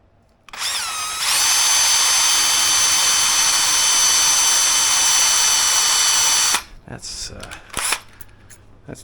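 A power drill runs steadily for about six seconds in a high, continuous whine, then stops, followed by brief quieter handling clatter while working on the wiring of a DIY bike rack.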